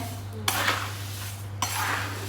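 Puffed rice and papad pauva being mixed in a bowl, giving two short bursts of dry rustling and clinking over a steady low hum, with no voices.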